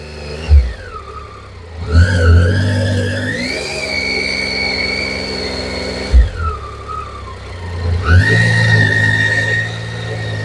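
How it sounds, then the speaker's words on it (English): Motorcycle ridden slowly on throttle and clutch alone without braking: the engine idles, then rises in two separate revving pulls that hold steady before dropping back, with clunks at each change and no talking. "get used to just controlling the bike with the throttle and the clutch"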